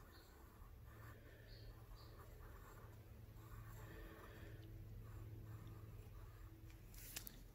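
A name being handwritten, probably with pen or marker on paper, gives soft continuous scratchy strokes under a steady room hum, faint and close, with no one talking.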